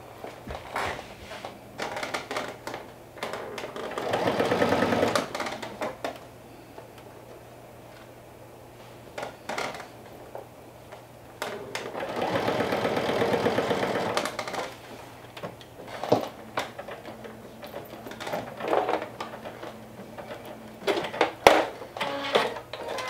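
Sewing machine stitching bias tape onto a bucket hat, heard as two bursts of rapid needle chatter a few seconds each, separated by quieter handling clicks and fabric rustling.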